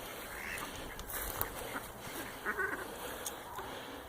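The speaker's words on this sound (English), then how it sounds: "here's all the little ducks" Little ducks in a farm pen quack in scattered calls over a steady outdoor background hum, moderately close and not very loud, with no talking.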